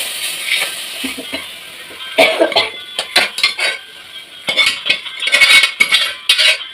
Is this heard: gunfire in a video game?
no